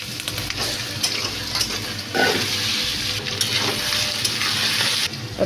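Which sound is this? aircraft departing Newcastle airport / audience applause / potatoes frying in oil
potatoes frying in oil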